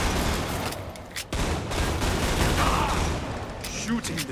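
Gunfire in Killing Floor 2 fills the scene as a steady, loud fusillade of rapid shots, with a character's voice shouting over the shooting.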